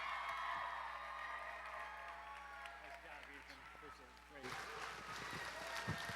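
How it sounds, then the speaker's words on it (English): A crowd gives a standing ovation for a man named Robbie at an event, with clapping, whoops and cheering that swell and grow louder toward the end over a humming background. "I need a standing ovation for the man that makes this happen, Robbie."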